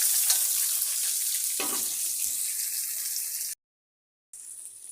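Vegetables for fried rice hiss and sizzle steadily in a hot pan, a continuous close frying sound that cuts out briefly near the end before resuming.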